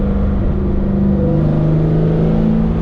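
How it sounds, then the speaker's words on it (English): A 1970 Chevelle engine rev-matches on a downshift to second gear, a loud close rumble whose pitch climbs steadily as the revs rise inside the car. "We're gonna kick down to second, and let's see if it blips up, bring those RPMs up a little bit."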